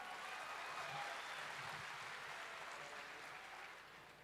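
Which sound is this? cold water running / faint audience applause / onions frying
faint audience applause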